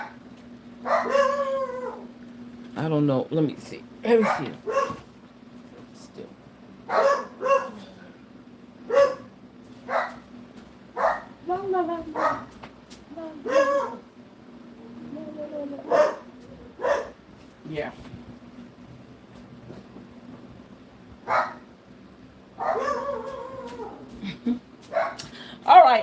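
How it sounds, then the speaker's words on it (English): Dogs bark in repeated short bursts, some yelping and howling, nearby and loud, while a person speaks a few words in between. "Please do not pay attention to my dogs barking."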